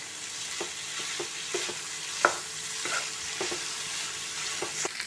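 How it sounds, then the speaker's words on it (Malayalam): Chicken gizzard roast stirred while frying in coconut oil over a raised gas flame: steady sizzle with scattered scrapes of the spoon against the pan, one sharper clack near the middle, no talking. "ഇനി നല്ലപോലെ ഇളക്കി കൊടുക്കാം."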